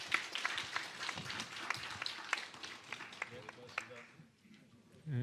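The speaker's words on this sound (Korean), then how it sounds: "박수로 끝내겠습니다" Audience applause at the close of a district population-policy forum, a quiet burst of scattered clapping that thins out toward the end, heard from a distance with faint room noise.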